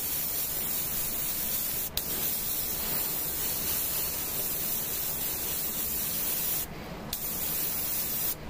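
An airbrush sprays paint in a steady hiss across a tabletop miniature, an Adeptus Mechanicus Dune Crawler in Mars scheme, with the continuous airflow broken by a couple of brief pauses.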